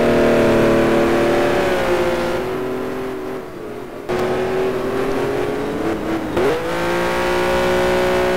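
A Porsche race car engine in the racing game RACE 07 revs loud and steady, drops off briefly as it shifts, then climbs again with a sharp rising whine.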